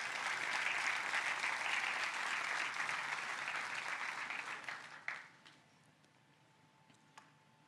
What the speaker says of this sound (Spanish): Denle un fuerte aplauso, sí.